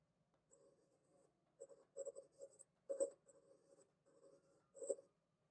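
A stylus writing by hand on a OnePlus Pad Go 2 or Samsung Tab A11 Plus tablet screen, producing faint, close scratchy strokes in short irregular bursts.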